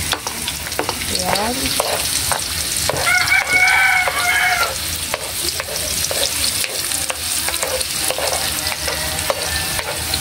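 Onion stirred and sautéed in a pan for chicken feet adobo gives a loud, continuous frying sizzle with repeated spatula scrapes, while a rooster crows in the background.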